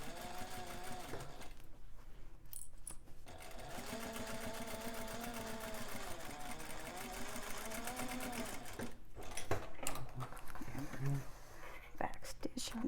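A sewing machine runs in steady stretches, stitching a bag seam along the lining side with short pauses between runs, while a soft voice talks over it.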